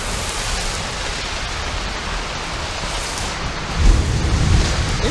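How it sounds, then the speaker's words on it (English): A thunderstorm's steady rain hisses without a break, and a low rumble of thunder rises near the end. No voices are heard. "It be raining here, thundering, lightning."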